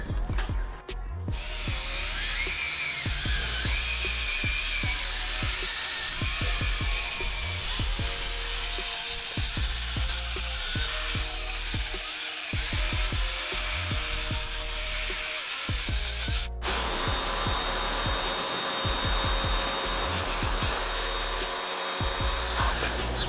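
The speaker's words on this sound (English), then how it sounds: "we're going to use the drill brush again" A power drill fitted with a scrub brush whirs continuously against a badly damaged tyre and wheel, a loud sustained motor drone with scrubbing friction, briefly cutting out once midway.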